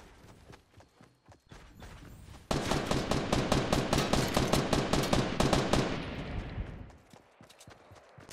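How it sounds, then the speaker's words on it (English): Rapid automatic gunfire in the Fortnite video game, a sustained burst of evenly spaced loud shots after a few scattered earlier shots, tapering off near the end. "Who are we shooting at, boys?"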